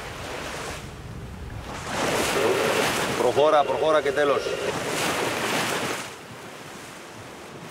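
Strong Meltem wind and rough Aegean Sea waves surge around a sailboat in the Cyclades, with loud gusting buffeting the microphone and water rushing against the hull, while a voice speaks briefly.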